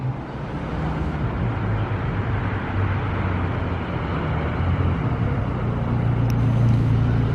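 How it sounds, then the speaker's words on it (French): A McLaren 720S Spider approaches on a Monaco street, its engine a low steady rumble that swells slightly amid ambient traffic noise. "Par contre il y a la 720S Spider qui arrive."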